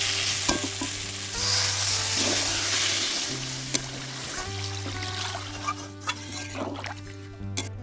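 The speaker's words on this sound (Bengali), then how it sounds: "মশলাটা ভালো করে কষিয়ে নেব" Spice paste with chopped tomato being fried and stirred for a Pangas fish curry, a steady sizzle with scraping spatula strokes and faint clinks throughout, no voices.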